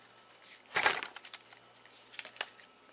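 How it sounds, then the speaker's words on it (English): A Yu-Gi-Oh! card deck gets shuffled up close with one crisp riffling burst, then a few lighter papery taps and flicks. "Deck is shuffled."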